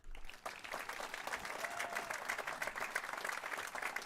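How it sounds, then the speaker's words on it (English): A crowd applauds at a high school commencement ceremony as a Marine Corps recruit from the graduating class is honored; the clapping is dense and steady, filling the room evenly from start to finish. "please join me in applauding Class of 21's United States Marine Corps recruit, Taylor Gonsher"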